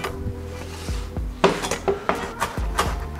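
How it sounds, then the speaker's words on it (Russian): A knife finely chopping fresh cilantro on a cutting board, heard as a handful of sharp, irregular close taps in the second half over a quiet kitchen background, with no talking. "Кинзу я здесь нарезаю мелко"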